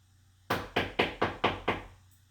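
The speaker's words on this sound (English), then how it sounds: "they're going to come back knocking on that door" Six sharp, evenly spaced knocks on a door ring out close and clear in quick succession, with near silence before and after.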